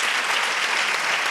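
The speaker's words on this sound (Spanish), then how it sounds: "pido un fuerte aplauso para Eloy" Hearty applause from a crowd, dense and even clapping that fills the whole moment without pause.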